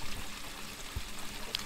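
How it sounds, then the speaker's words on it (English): Rainwater trickles and splashes through a downspout leaf filter over a rain barrel, a steady close watery wash with faint drips, no voices. "The water just drops right through and any leaves or large debris get pushed to the outside."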